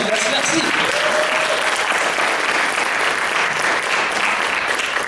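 Audience applause at a live stand-up comedy stage show, a steady dense wash of many hands clapping for a participant, loud and continuous throughout with faint voices mixed in.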